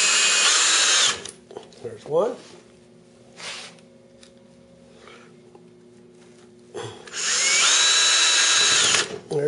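Power drill driving screws while building a hobby paint rack, two loud whirring bursts at the start and end with quieter clicks and handling noises between them, close up.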